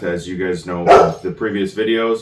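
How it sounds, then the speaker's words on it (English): Dogs barking in the background of an indoor golf-fitting session, a brief bark breaking through while someone talks steadily in the foreground. "Sorry about the dogs in the background."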